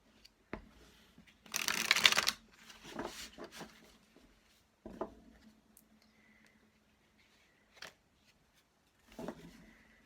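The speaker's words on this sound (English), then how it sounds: "This is me attempting to shuffle this deck." A large, oversized deck of playing cards is shuffled by hand, giving one loud burst of riffling flutter followed by softer scattered card taps, slides and clicks, with quiet gaps between them.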